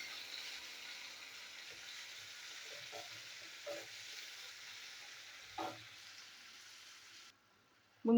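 Chopped onion frying in a pan for a masala kakrol dish, giving a steady soft sizzle with a few faint stirring scrapes and knocks, and a brief louder bump right at the end.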